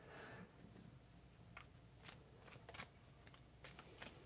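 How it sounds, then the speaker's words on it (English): A deck of tarot-style cards is shuffled by hand, soft riffling and slapping bursts coming in short irregular bunches, faint and close in a quiet room. "I need to get these cards a little shuffled."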